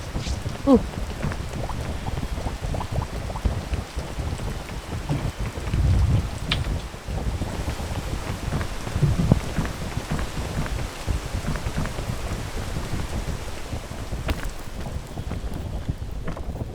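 Steady patter of video-game rain with a low rumbling underneath, continuous and fairly soft throughout, with no speech.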